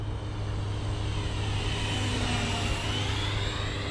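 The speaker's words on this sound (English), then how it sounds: "Doing a flyby here." Freewing T-45 Goshawk 90mm electric ducted-fan RC jet making a flyby, a steady loud whooshing turbine-like whine with a faint pitch sweep as it passes, continuous throughout with no talk.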